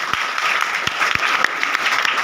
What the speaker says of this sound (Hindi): पहले आप लोग इनका ताली बजा करके स्वागत